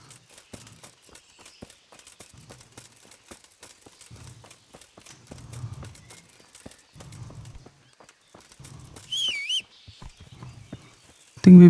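Horse hooves plod in Kingdom Come: Deliverance, the video game, in a loose walking rhythm of muted, moderately near footfalls, with a voice speaking and a short bright effect near the end.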